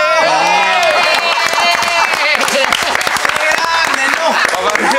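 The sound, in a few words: crowd applauding Santa Claus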